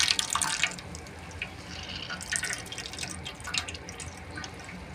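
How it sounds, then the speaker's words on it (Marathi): Water drains and drips steadily from cooked radish leaves being squeezed and pressed out over a plate, a continuous wet trickle with a few stronger splashy surges, close by and with no talking. "तर आपण या भाजीतलं आता हे असं सगळं पाणी असं काढून टाकायचे"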